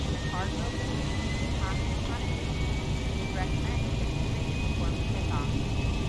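A Boeing 757 freighter in X-Plane 11 roars at takeoff power, a loud steady broadband jet rumble with a rising whine, while a voice speaks intermittently over it throughout.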